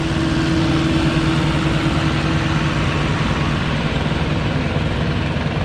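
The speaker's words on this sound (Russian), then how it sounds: "Меня обгоняет какая-то выставка раритетных тракторов с флагом Франции, между прочим." A convoy of vintage tractors flying a French flag rolls past on an Austrian mountain road, a loud, steady low engine drone with a rumbling throb that holds unbroken throughout, close by and without talk.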